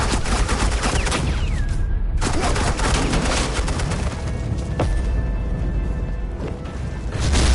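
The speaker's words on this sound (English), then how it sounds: "Suppressing fire." Suppressing gunfire in the Batman Telltale video game, a loud, dense barrage of shots and bangs with crashing impacts throughout, under faint game voices.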